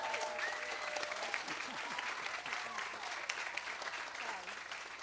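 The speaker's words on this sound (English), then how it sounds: "Let's give a round of applause for Dr." Steady audience applause at a 5th grade moving-up ceremony at Merrick Academy, honoring Dr. Merrick, dense and continuous throughout with murmured voices mixed into the crowd.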